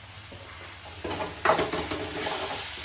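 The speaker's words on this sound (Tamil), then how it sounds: "நல்லா வதங்கும் வெங்காயம் நல்லா வதங்கிடுச்சுப்பா" Onions sauté in a pan for mutton trotter paya, giving a continuous close sizzle with spatula stirring and a sharper scrape midway, the frying growing louder afterwards, with no voices.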